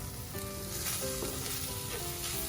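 Sausage and flour roux sizzles steadily in a hot pan while being stirred, a dense crackling hiss with faint scraping strokes, close-up and without talk.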